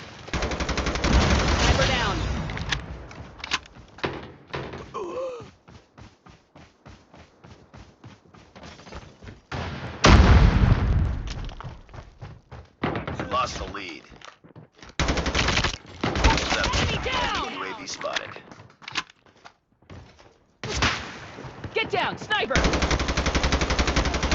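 Loud, close bursts of automatic M4 rifle fire in the shooter game Call of Duty: Mobile, firing in rapid rattling volleys with short gaps between them.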